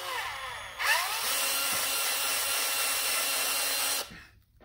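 A bigger drill bores out a part of a PS5 DualSense controller during a DIY button remap mod, a steady, close whine lasting about three seconds that starts abruptly and cuts off sharply.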